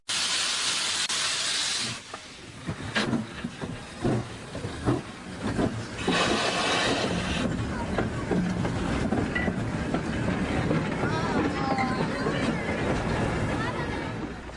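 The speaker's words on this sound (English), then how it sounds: "the locomotive began its return trip across the bridge." A locomotive crosses a bridge near Marienville with a steady roar and rhythmic clacking of wheels over rails, loud and close, with a hissing burst at the start.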